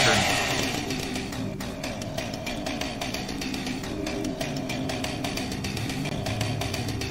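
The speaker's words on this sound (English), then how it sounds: "How about chainsaw?" A chainsaw in a video game revs with a continuous, loud buzzing drone that holds steady for several seconds over game sounds, with a voice underneath.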